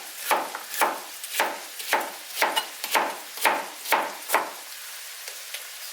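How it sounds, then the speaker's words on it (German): Vegetables chopped into bite-size pieces for a potato and bean stew, a knife striking a cutting board in about a dozen evenly spaced sharp chops, close and clear, with no talking. "Alles natürlich mundgerecht schneiden."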